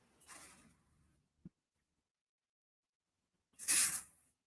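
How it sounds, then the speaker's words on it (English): Spray adhesive hisses from an aerosol can in two short bursts, the first softer and the second louder and closer, separated by a small click and quiet. "so I just sprayed a little adhesive on the line there"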